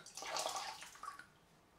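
A shaving brush is dipped into water while lathering for a head shave: a short, soft wet swish and slosh, close by and fading quickly.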